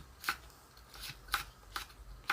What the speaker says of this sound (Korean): 청양고추 3개도 어슷 썰어줍니다